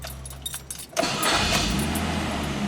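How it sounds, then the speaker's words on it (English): A car starts with the key: a short starter crank around the one-second mark catches immediately into a steady, close idle, with faint key and interior rattles before it. "I got the key in, so we'll start up the car."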